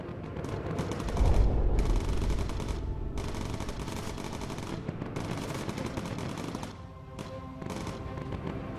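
Continuous rattling fire from a bomber's mounted gun in the aerial combat game Bomber Crew, long rapid bursts with brief gaps, fairly loud and close, over the drone of the aircraft.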